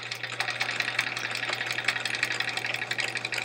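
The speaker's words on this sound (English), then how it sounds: "I'm gonna go one more stitch, we'll back tack, and forward again" A sewing machine stitches paper-pieced quilt blocks with a steady, close mechanical whirr and rapid needle ticking, running continuously with a constant low motor hum beneath.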